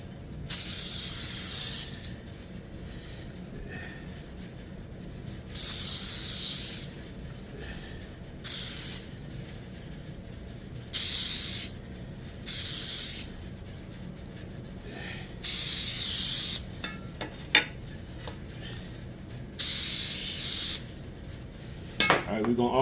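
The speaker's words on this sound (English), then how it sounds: "go ahead and spray these right here." Cooking spray hissing onto cake pans in a home kitchen, coming as about seven separate loud bursts of a second or two each, with quiet pauses and a few small clatters between them.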